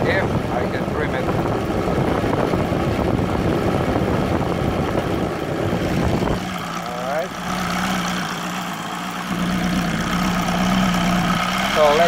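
An OS Sirius 7 FR7-420 radial model engine with a glow CDI ignition conversion idles with a steady, throbbing mid-pitched drone that softens and settles partway through, heard close with a voice talking over it at times.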